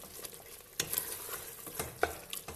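Onions frying in a pan for Tunisian lamb mermiz, a soft sizzle under occasional scraping stirs and light clinks of a spoon against the pan, close and quiet, no talking.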